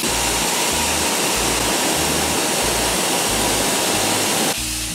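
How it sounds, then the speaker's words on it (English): Water sprayed as a very soft mist to rinse dirt from window blinds, a steady loud hiss of spray throughout with no talking, changing slightly near the end. "with a very, very soft mist, you just rinse it"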